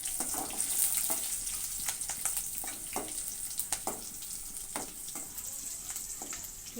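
Dry red chillies crackle in hot oil in a home kitchen, a constant sizzle broken by sharp pops and a few light clinks of stirring, with faint speech now and then.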